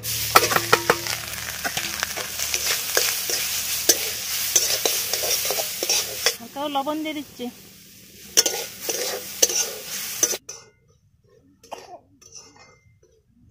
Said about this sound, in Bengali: ঘিটা গরম হয়ে গেছে। এবার পুর করার জন্য নারকেলটা দিয়ে দিচ্ছি।